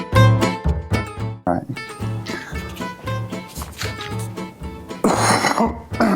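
Repeated loud coughing close to the microphone, several harsh bursts in a row, with some throat clearing mixed in.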